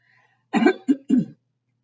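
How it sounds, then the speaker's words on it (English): Three quick, harsh coughs in a row, close and loud, in an otherwise quiet room. "Excuse me, I'm going to cough."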